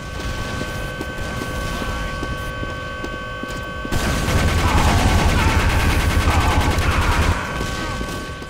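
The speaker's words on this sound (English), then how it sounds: "Always keep the gun spinning." A minigun in Team Fortress 2 whirs as it spins up, then fires in a loud, continuous rattling stream of rapid shots with booming impacts, stopping near the end with no talk.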